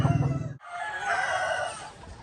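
White Leghorn hens and a rooster on a poultry farm give close, loud clucks and a crowing-like call, broken by one short gap midway.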